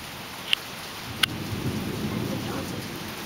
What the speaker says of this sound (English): I don't know if that's hail or if that's heavy rain.